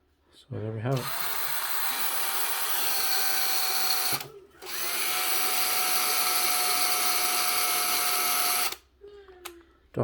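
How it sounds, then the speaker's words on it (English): A cordless Makita drill spins a 3-inch woolen polishing pad in two sustained, loud whirring runs of about four seconds each, separated by a brief pause, with a short clatter at the start and end. "So I have my drill here, my trusty Makita."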